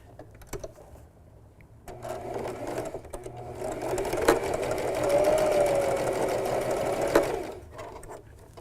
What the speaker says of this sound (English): I'm just using a straight stitch.